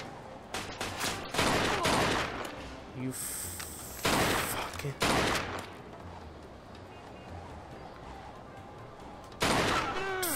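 Gunfire in Mafia 2 during a jewelry robbery shootout: loud bursts of rapid shots come in several clusters with quieter gaps between them, while someone talks over parts of it.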